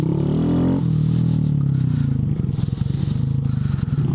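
On an off-road trail at Colliers Mills, Jackson NJ, a Honda Grom's small engine is blipped hard with throttle, a loud close rasp that drops into a rough, pulsing putter amid scraping and rustling.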